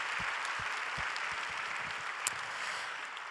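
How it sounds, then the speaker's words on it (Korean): A gathering at a Korean church assembly and world mission conference applauds in encouragement after a dinner, with sustained, dense clapping of moderate loudness and a few heavier low thumps in the first seconds. "박수로 한번 격려해 주시면 감사하겠습니다"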